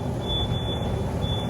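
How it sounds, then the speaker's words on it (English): During a 2021 Texas snowstorm power outage at home, a smoke detector sounds a thin, high, steady electronic tone. It cuts out briefly and returns over a constant low rumbling background. "Now you gotta go find the smoke detector."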